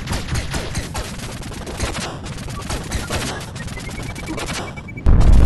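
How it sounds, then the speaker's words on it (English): Rapid gunfire from a boss in the video game Owlboy, a dense burst of repeated shots firing continuously and loudly, with a rising tonal game effect near the end before a sudden loud cut. "Oh, he's shooting more this time."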